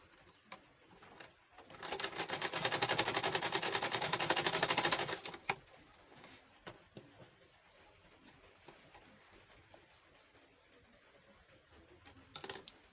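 A sewing machine stitches folded skirt fabric for a 180-degree flare skirt, a close, fast mechanical chatter lasting about three seconds, then quiet handling clicks and a brief final burst.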